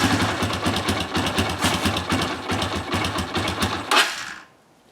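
A Honda CRF230 dirt bike with a bogging fault idles unevenly in a rapid, uneven putter, loud and close, then cuts out and stalls near the end.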